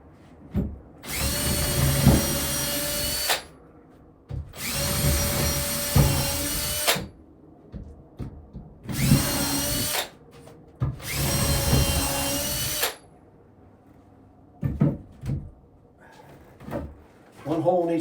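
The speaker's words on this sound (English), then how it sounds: "We're going to drill, I'm thinking 1 hole in each one." A power drill bores holes through 2x6 lumber while a workbench is being built, with four long whining bursts, two shorter ones, brief quiet gaps between them and a few knocks of handling wood afterward.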